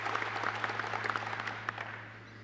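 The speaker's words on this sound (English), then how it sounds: "He's already demanded a round of applause for us, and we haven't even started." An audience at an Arkansas economic expansion event applauds, a moderate, steady patter of clapping from a room full of people that tapers toward the end.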